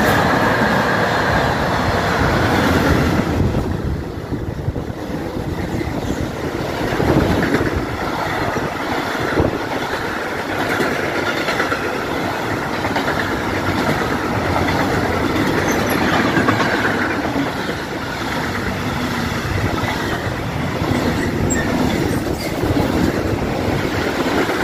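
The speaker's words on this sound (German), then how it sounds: "Eine Baureihe 187 von DB Cargo mit dem gemischten Güterzug." A DB Cargo class 187 electric locomotive hauls a mixed freight train through a station in Bavaria, a loud, sustained rolling rumble with rhythmic wheel clatter and occasional squeal from the wagons, close by and without speech.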